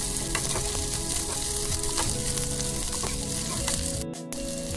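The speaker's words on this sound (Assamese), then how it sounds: "ভাজি লৰাই লৈছোঁ" Cooked rice stir-fried with onion in a hot pan, a loud continuous sizzle with scraping and stirring throughout, no voices.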